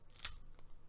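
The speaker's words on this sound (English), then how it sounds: "and then a pair of scissors gently on the top" A single snip of scissors cutting open the top of a Yugioh Sacred Beast Structure Deck card pack, one short crisp cut near the mic with no voice over it.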